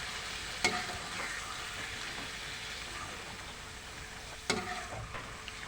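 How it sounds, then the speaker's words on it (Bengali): Soybean oil warming in a cooking pan gives a steady, low crackling hiss up close, with two sharp metallic knocks of a utensil spaced several seconds apart. "সয়াবিন তেল দিয়ে কিছুক্ষণ জাল দিয়ে নিলাম"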